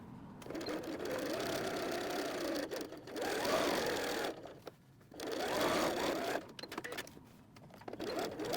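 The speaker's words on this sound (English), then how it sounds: "I'm going to sew an L shape right here" A sewing machine runs in bursts of rapid stitching, sewing an L-shaped seam on a fabric messenger bag, with short pauses between runs, close and fairly quiet.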